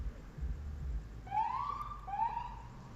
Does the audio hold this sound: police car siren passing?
yes